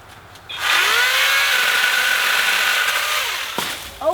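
An EGO cordless pole saw whirs up and cuts through a tree branch, a loud, sustained high-pitched buzz for about three seconds that falls away as the cut ends, followed by a faint crack.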